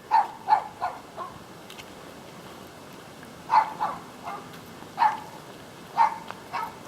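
A puppy on a quiet suburban street barks in short, sharp yaps spaced irregularly, several in quick pairs, at moderate distance with faint outdoor ambience and no talking.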